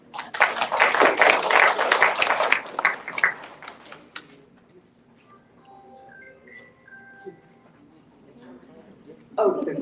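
An audience at a candidate debate gives a burst of loud applause lasting about four seconds. It fades out, a few faint sounds follow, then a brief louder noise comes at the end.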